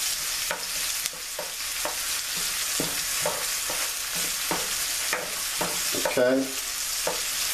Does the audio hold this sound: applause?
no